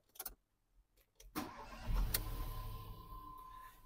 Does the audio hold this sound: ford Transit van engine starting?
yes